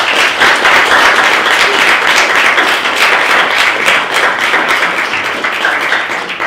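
Audience applause for a university student racing team fills the room, dense and steady clapping from a crowd throughout, close and loud, fading slightly toward the end.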